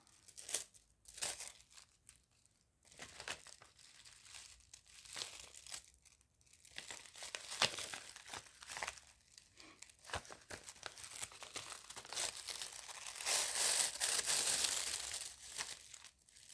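Used foil is handled up close, giving soft, irregular crinkling and crumpling that comes in bursts and grows busier toward the end, fairly quiet overall.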